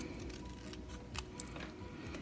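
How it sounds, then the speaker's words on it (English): Scissors snip through card paper in a few faint, short cuts, quiet and close over a low background hiss, with no talking. "just lining the edge of my scissors right up with the edge of that block, and then just snipping"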